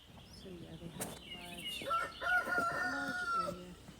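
A rooster crows repeatedly in a small backyard chicken flock, loud and close. Hens cluck softly underneath, with rustling around the coop.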